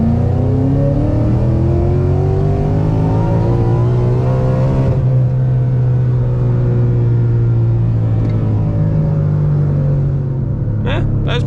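A Mazda Miata engine revs hard toward an 8,000 RPM redline, its pitch climbing and sweeping up in a loud, sustained wail before easing off, heard close from inside the car.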